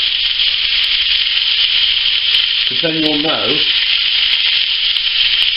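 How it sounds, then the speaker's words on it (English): Pheasant fries in a red-hot pan, a broad constant sizzling hiss filling the clip, with someone speaking briefly partway through. "So you've got to have that pan red hot, got the pheasant to do now"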